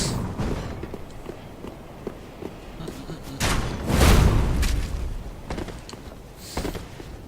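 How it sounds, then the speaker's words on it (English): Firebomb explosions from Dark Souls 3 gameplay: a loud, close burst swells around the middle of the clip amid scattered thuds, footsteps and smaller crackling impacts, with a few further bursts following. "And a firebomb."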